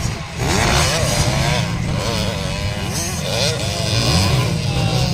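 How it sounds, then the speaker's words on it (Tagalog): A 450cc and a 150cc motorcycle racing each other, engines droning loudly and continuously with rising and falling revs under a commentator's voice. "Ang laki palang motor ni Chris Atis, 450, tapos kay Zaira 150cc lang"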